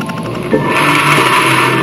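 A loud, continuous blender motor whir with a grinding rattle as it grinds cookies, steady throughout without pause.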